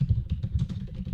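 Fingers tap quickly on a computer keyboard, a short burst of soft, close keystrokes in an even rhythm.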